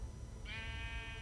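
A single drawn-out, nasal bleat from a Minecraft: Story Mode sheep starts partway through and holds steady to the end over a low background hum.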